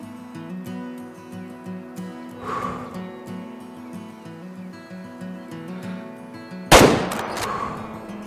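A 30-30 lever-action rifle fires once at a mule deer while hunting in a video game, a sudden loud crack over a steady droning game soundscape, followed by a brief decaying echo.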